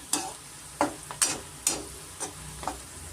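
Potatoes frying in a pan for an aloo fry curry, with about six distinct scraping stirs of a spatula over a light, steady sizzle, close and moderately loud with no talk.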